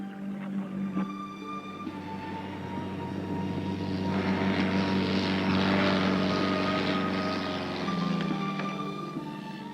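A single-engine Cessna propeller airplane flies with a steady, droning engine hum that swells slightly in the middle, fairly faint and continuous with no voices.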